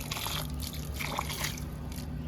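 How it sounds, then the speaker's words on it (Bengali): Water is poured onto a freshly potted rescued aloe vera plant, making a faint, close trickle and gentle splashing that continues for a couple of seconds with no voices. "এবার আমি একটু জল দিয়ে দেবো"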